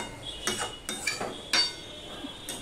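Vegetables stirred in a pot for a summer vegetable curry, a handful of short clinking scrapes of a utensil against the pot, spaced irregularly and fairly close, with no talk.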